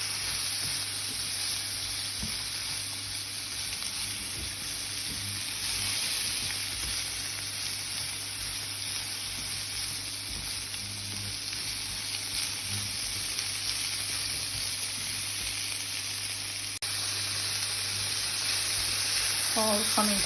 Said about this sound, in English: We allow it to come together, to fry so it gets softened.